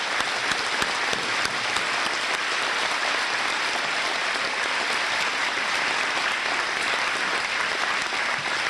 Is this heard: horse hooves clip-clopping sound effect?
no